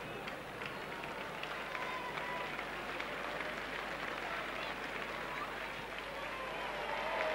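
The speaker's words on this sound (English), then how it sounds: "Ripple of applause for Tate" A rugby league crowd at a Leeds versus Workington match gives a ripple of applause, a steady broadband wash of clapping and crowd murmur that swells slightly toward the end.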